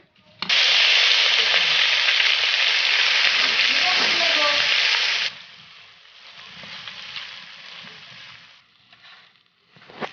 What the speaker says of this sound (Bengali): তেলটা গরম হয়ে গেছে, আমি মাছটা দিয়ে দিচ্ছি।